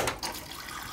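Hot water from a Japanese hot-and-cold water dispenser pouring into a glass, a brief, quiet, steady splashing stream heard up close.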